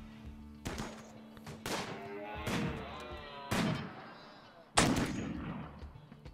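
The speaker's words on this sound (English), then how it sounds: "I was shooting through the wall" Five heavy gunshots from the video game Rimworld fired through a wall, spaced about a second apart, each a loud booming crack with a ringing decay.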